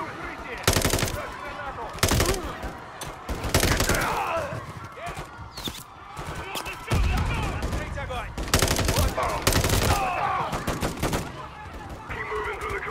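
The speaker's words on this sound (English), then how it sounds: "Where are they shooting me from?" Rapid automatic gunfire and bursts of shots in a Call of Duty Modern Warfare III campaign firefight, loud and repeated in clusters over about thirteen seconds, with game sounds and some voices mixed in.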